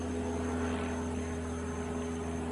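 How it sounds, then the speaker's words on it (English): A steady airplane drone passes overhead outdoors, a continuous, moderately faint engine hum with a stable tonal buzz that neither rises nor fades much over the short stretch. "I have an airplane coming over like you"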